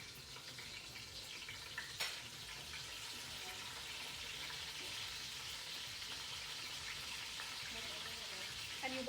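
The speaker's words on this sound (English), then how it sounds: "I'm gonna saute them now." Shrimp for a Guyanese kalounji sauté in a pan with a soft, continuous sizzle at low level, broken by a sharp knock near the start and a couple of faint clatters near the end.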